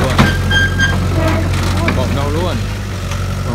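An excavator's engine drones steadily while it climbs a ramp onto a truck trailer, a continuous mid-range rumble with a few faint clanks and brief talk over it.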